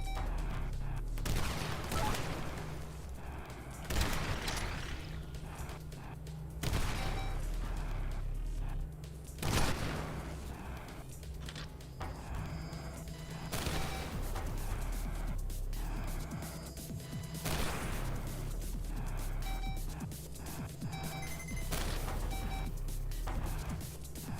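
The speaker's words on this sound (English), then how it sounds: "you can shoot down missiles with your head Vulcans" Head Vulcan guns in an indie video game fire in repeated rapid bursts, loud and close, with electronic tones and game effects between the volleys.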